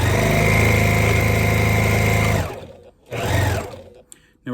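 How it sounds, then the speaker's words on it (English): Sewing machine stitching down the side seam of a fabric beard mask, a steady loud whirring hum for about two seconds, then stopping, with a brief second burst of stitching and a few quiet handling noises. "And this one I'm gonna sew all the way down the side."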